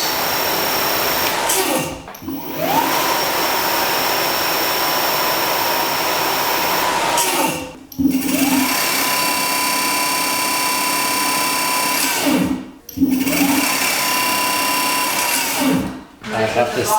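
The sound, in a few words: Solar Hyperion electric scooter motor at full throttle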